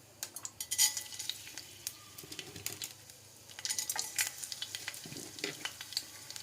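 Chana dal going into heating oil on a stovetop, a soft, faint crackle with scattered light clinks and spoon scrapes against the pan, coming in uneven bursts.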